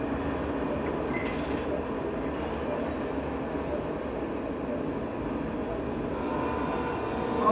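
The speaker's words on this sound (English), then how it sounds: "Here comes a train." Train rumbling past in the rally racing game Dirt 3 during a rainy pro truck event, a steady loud broadband roar that holds through the whole stretch and swells slightly at the end.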